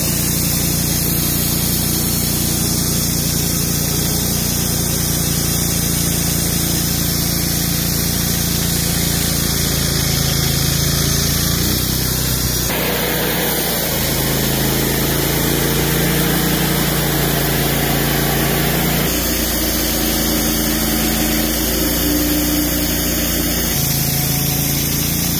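A sawmill cuts a large, clear yellow poplar log into 16-inch-wide 4/4 boards. A loud, continuous mechanical drone with high whining blade noise shifts in pitch partway through and continues without talk.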